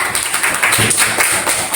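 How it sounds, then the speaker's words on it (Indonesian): Classroom students clapping briefly for a presenting group, a quick burst of uneven, close hand claps that stops abruptly. "Bagus ya, tepuk tangan untuk kelompok 3."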